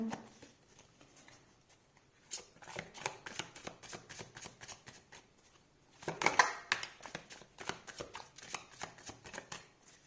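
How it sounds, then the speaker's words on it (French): A deck of tarot cards is shuffled by hand in quick riffling bursts, near and fairly quiet, with a louder flurry in the middle and short pauses between rounds. "Comme si je ne savais plus tout à coup battre les cartes."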